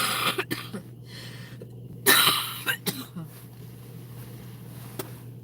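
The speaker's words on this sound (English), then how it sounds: "obnoxious cough over there" A person nearby coughs and clears the throat in a few harsh bursts, with one louder hacking cough in the middle, over a low steady background hum.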